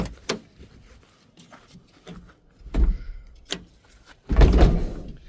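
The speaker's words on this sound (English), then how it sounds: "Get the door open." A car door opens with a few clunks and thuds, the loudest near the end, in a quiet setting on a cold morning, with the door reported to be out of its track.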